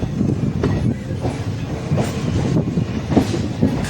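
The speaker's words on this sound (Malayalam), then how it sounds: "അങ്ങനെ അവസാനത്തെ റെയിൽവേ സ്റ്റേഷനായ നിലമ്പൂർ റോഡ് സ്റ്റേഷനിലേക്ക് വണ്ടി" A passenger train pulls into Nilambur Road railway station with a steady, close rumble of wheels and rhythmic clickety-clack over the rail joints.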